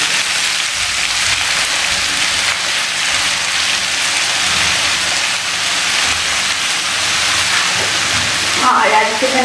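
Vegetables frying in a pan give a loud, steady hiss like heavy rain after water is poured in and mixed, with a brief clatter near the end.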